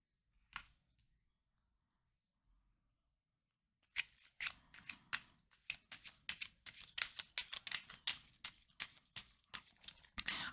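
Scissors snip close up. A single cut sounds, then a pause, then a rapid run of crisp, uneven clicking snips continues to the end with no talking.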